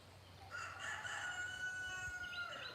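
A rooster crows once from a distance, its drawn-out call rising and holding over a faint outdoor background.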